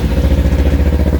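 A Kawasaki Ninja's engine idles in neutral nearby, with a loud, rapid, even mechanical pulsing and clatter.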